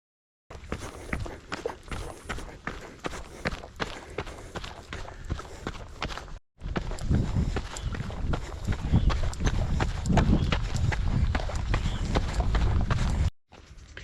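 Running footsteps pound a dry trail through golden grass hills near Folsom Lake, California, a close, quick, regular patter that grows heavier and louder after a brief break midway.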